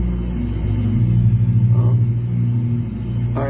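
Car engine idling with a deep, steady rumble after being restarted, the tone swelling briefly as if lightly revved before settling back, heard close and without speech.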